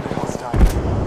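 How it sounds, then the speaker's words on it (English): Gunfire in the battle royale shooter Apex Legends, a short burst of shots and an impact thump about midway through, loud and close amid game noise and voice effects. "Shots fired and they're hitting me."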